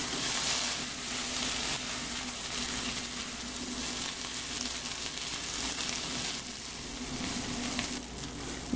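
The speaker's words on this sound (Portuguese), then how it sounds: "é tá refogando bem o arroz" Rice for a loose, fluffy Brazilian arroz sautés in a hot pan, a loud, continuous crackling sizzle with scraping stir strokes throughout, close up and without speech.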